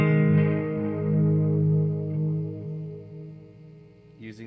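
Gibson LPJ electric guitar played through a Fender '68 Custom Deluxe Reverb reissue with an Alter Ego delay pedal and the amp's reverb, a sustained chord ringing with rich harmonics and echoing repeats, slowly fading over a few seconds.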